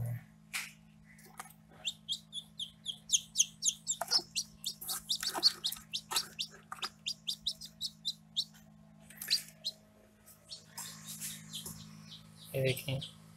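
Newly hatched chicks peep in an egg incubator, a run of high, rapid chirps in clustered bursts over a steady low electrical hum from the unit, fairly close.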